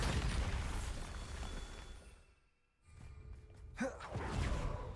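Bombarda, a blasting spell cast in Hogwarts Legacy, goes off as a roaring explosion that fades into near silence. A second, sharper burst follows with a whoosh, then a rumbling tail.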